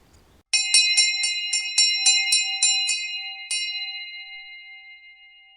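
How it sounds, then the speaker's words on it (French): A bell rings in clear, evenly spaced strikes, about eight in quick succession, then one last stroke after a short pause that leaves a long ringing tail. It sounds close and bright, with no voices. "la cloche a retenti."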